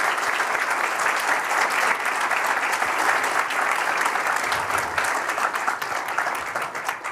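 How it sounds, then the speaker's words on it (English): A symposium audience gives a round of applause after a talk, steady, dense clapping filling the room for several seconds and tapering slightly at the end. "let's give a round of applause."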